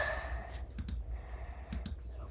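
A few crisp mouse clicks on a Mac computer, one single click followed by two quick pairs, over a low steady room hum.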